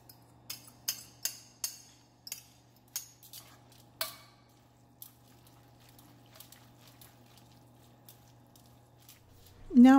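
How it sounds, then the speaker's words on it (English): Cooked pasta is mixed with egg-enriched meat sauce in a baking dish, giving a run of wet squishy clinks and scrapes in the first half, then quieter stirring, with a louder bump at the very end. "I'm going to mix the pasta with that reserved meat sauce where I added the egg to it. And I'm just going to combine and mix well."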